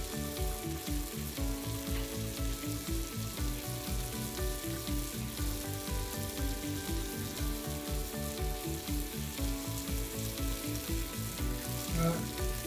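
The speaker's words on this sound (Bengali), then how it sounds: "একটু করে সরষের তেল দিয়ে দিচ্ছি, আর সাথে আমরা যে ম্যারিনেট করেছিলাম মশলাটা, সেই মশলা থেকে একটু দিয়ে দিচ্ছি।" Hilsa fish fries in mustard oil with added spice marinade, making a steady, dense sizzle and crackle that runs continuously throughout, close and even.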